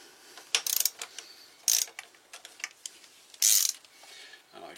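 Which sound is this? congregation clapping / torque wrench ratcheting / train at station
torque wrench ratcheting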